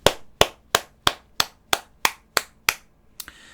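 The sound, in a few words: group clapping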